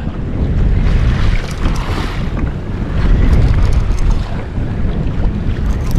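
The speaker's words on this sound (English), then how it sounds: "We go into these waves, may get splashed a little bit here." Fishing boat pushing through ocean waves off the Florida Keys, with a loud continuous rush of hull spray, wind and engine rumble that surges and eases as it crosses the swells.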